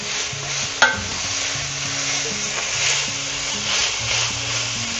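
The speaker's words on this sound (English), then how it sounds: "I'm going to add in the carrots and the green peppers. And I'm going to let that cook for another 3 minutes." Carrots and green peppers sizzling in a pot for a seafood stew, a steady frying hiss with a sharp utensil clink early on and soft stirring scrapes, no speech.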